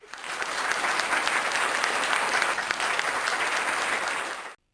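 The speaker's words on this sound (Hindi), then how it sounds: "तो भरपूर तालियों के साथ स्वागत कीजिएगा" Audience applause at a Hindi kavi sammelan poetry gathering, a dense steady wash of many hands clapping that holds for several seconds at full strength, then cuts off abruptly.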